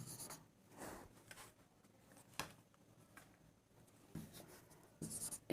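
Pen scratching across paper in short bursts of handwritten strokes, close and quiet, with brief pauses between the scribbles.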